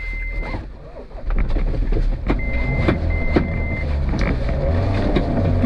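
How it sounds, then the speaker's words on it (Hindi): A rally car climbs a sand dune at full throttle during a desert rally stage, its engine a loud, steady close-up drone with a few brief electronic beeps breaking through. "पूरा एक्सीलेटर, टीला नहीं चढ़ेगा नहीं तो"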